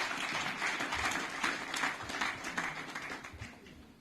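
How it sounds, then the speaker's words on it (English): A hall of guests at a staff retreat and award ceremony claps to welcome the managing director, a steady, fairly quiet patter of many hands that holds for a few seconds before tapering off. "Can we give him a round of applause?"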